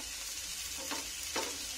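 Chopped carrots, cabbage and other vegetables for veg cutlets fry in a pan, a steady close sizzle with two brief scraping stirs near the end and no talking.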